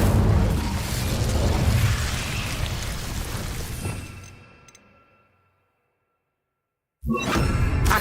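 Incendio fire spell cast in Hogwarts Legacy: a loud fiery burst and roaring whoosh that fades out over a few seconds into silence, followed by another abrupt burst of sound.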